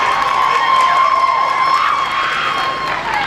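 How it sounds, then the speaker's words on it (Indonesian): Crowd noise at a Catholic high school's class 3 farewell night in Makale: a loud, steady wash of cheering, shouting and clapping from the audience, sustained throughout and easing slightly toward the end. "terima kasih untuk tepuk tangannya"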